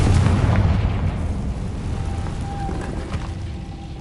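A Confringo blasting spell going off in Hogwarts Legacy, heard as a loud, rumbling explosive burst that slowly decays into a lingering low roar with no talk over it.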